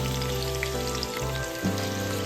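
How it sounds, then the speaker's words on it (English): Thinly sliced onions sizzle in hot oil in a skillet, a steady close frying hiss running over a low hum, with no one speaking. "On a different skillet, add oil, thinly sliced onions"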